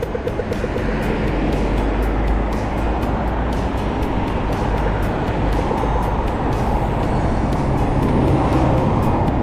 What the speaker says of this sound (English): It carries a lot of traffic